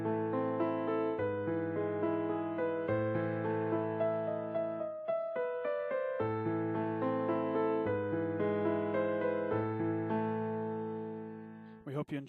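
Solo piano plays Für Elise with the sustain pedal held, so notes ring together and overlap in a clear, moderately quiet melody with low left-hand accompaniment, ending on a sustained fade.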